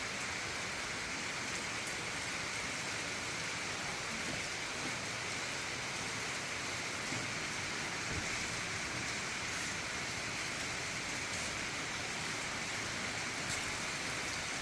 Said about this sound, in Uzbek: yomg'ir tovushini sizlarga eshittirish